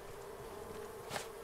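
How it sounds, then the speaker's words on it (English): Bees buzzing in the survival video game Raft, a steady insect drone holding throughout with one slightly louder pass near the end, no speech over it. "Bees for days."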